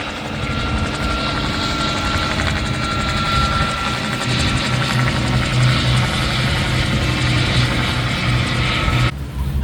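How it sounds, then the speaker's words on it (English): Bell 47 helicopters circle overhead at the Oshkosh airshow, giving a steady, loud rotor chop and engine drone that holds throughout with no voices, then cuts off abruptly near the end. "endless circling Bell 47s up above"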